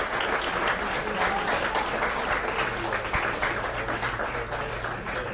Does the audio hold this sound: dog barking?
no